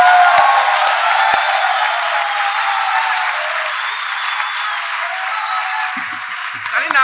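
Sustained audience applause fills a Hindi-Urdu mushaira poetry gathering, loud and steady throughout, thinning slightly near the end as a few voices come through.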